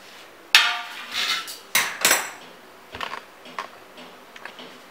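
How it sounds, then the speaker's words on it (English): A lid is lifted off a pan to check an eggless tutti frutti cake baked on a stovetop, giving a few sharp metallic clinks and clatters followed by lighter scattered taps. "We will just open the lid and we will check."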